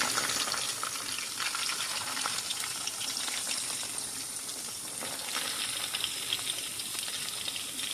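Chicken boti pieces sizzle and fry in a pan, a steady, dense crackling hiss that runs close and unbroken throughout, with no voices.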